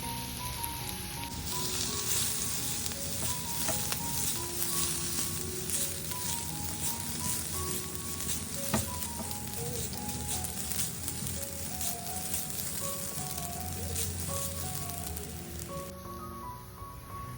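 Mustard seeds, chopped onion, dried red chillies and crushed coconut sizzle steadily in a pan for kale thoran, a dense continuous crackle and spatter with no talk.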